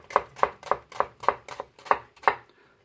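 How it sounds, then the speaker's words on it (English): A knife slices onions on a cutting board in steady, evenly spaced chops, eight crisp close knocks about a third of a second apart, with no talking. "I lift up the knife onto the onion and I slowly move the fingers back"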